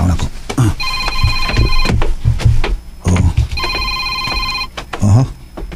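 A cellphone rings in a home with a repeating electronic ringtone, two bursts of trilling tones, loud and close, while people talk and move around it.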